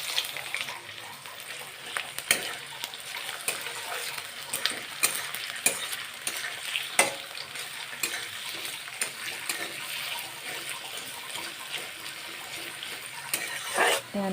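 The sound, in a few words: onions and green chillies frying in hot oil in a wok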